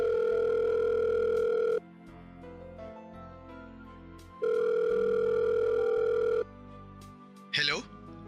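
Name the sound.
telephone call ringing tone, drama sound effect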